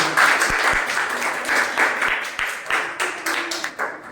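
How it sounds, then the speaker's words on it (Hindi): Loud, sustained applause from a school audience at a quiz competition for a winning group, dense clapping with a few sharper individual claps standing out, tapering slightly toward the end. "एक बार जोरदार तालियां इनके लिए भी।"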